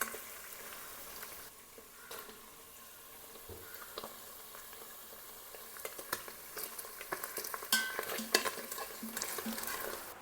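Paneer pieces fry in oil in a pan while biryani is made. A soft continuous sizzle runs under occasional scraping and clinking as the pieces are turned, growing busier toward the end.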